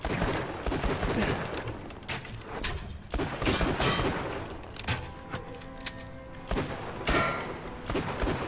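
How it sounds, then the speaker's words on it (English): Rapid enemy gunfire from a horde of skeletons in the Tiny Tina's Wonderlands shooter, a steady fusillade of crackling shots with occasional louder bursts, continuous throughout. "Suddenly you're attacked by a horde of skellymans. They start shooting at you!"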